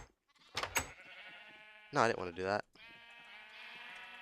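Sheep in Minecraft let out a couple of short bleats, with a player talking over the game sounds.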